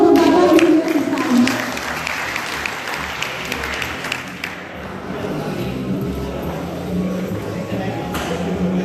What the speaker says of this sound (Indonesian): berikan tepuk tangan yang paling meriah untuk Bapak Insinyur Iksan